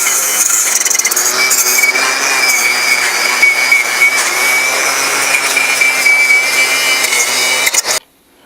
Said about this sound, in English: we're going to attack them with a little wire wheel here on a grinder